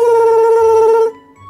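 A video game telephone rings loudly with a bright, trilling electronic bell for about a second, then stops, leaving faint background game sound.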